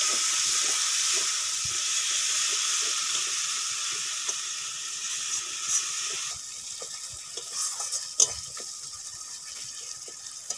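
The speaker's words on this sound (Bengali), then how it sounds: "মশলা ভালো করে কষানো হয়ে গেছে" Turmeric and chili powder masala sizzling in a pan with a little water for duck curry, a bright hiss that thins out over time, with scattered stirring clicks and one sharp clank.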